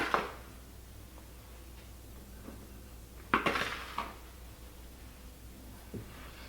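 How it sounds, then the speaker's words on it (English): Cups of fresh milled whole wheat flour are scooped into a mixing bowl, giving faint clinks and scrapes of the cup against the bowl in a quiet kitchen. "All right, let's do 2 more cups of flour."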